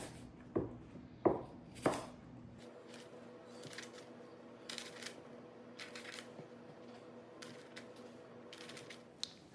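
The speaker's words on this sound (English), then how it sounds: "I'm going to have to trim these apples just a bit because I want 3 rows and my slices are too wide" A knife trimming apple slices on a cutting board, with a few sharp cuts at the start followed by softer scattered taps and scraping, close and fairly quiet.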